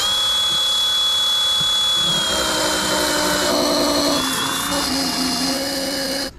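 An angle grinder cuts through the metal seat rail brackets on a set of Recaro bucket seats, a loud, steady whine with a shifting pitch that runs without a break.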